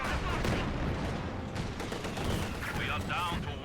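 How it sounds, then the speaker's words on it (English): Artillery barrage from an assault artillery ability in Company of Heroes 2, a dense, continuous rumble of blasts and crackling fire throughout, with a voice commentating over it. "And is some great assault artillery coming down"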